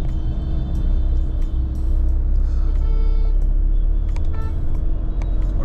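Busy city road traffic near the clock tower in Dehradun, a steady loud rumble of cars and other vehicles passing close by, with occasional faint horn-like tones and no talking.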